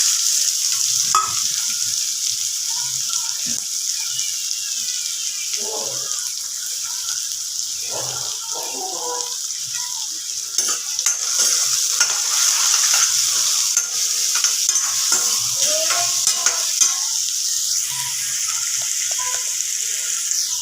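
Onion sautéing in a pan for a spicy chickpea amti, a constant bright sizzle broken by repeated scraping strokes of a spoon stirring, loud and close with no voices.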